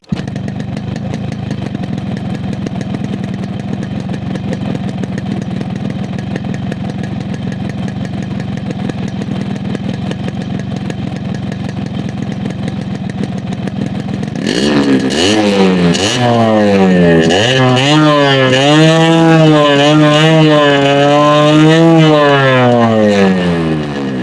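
A Yamaha RX motorcycle engine idles steadily at first, then after a half kick-start picks up with a series of rising and falling revs, loud and close.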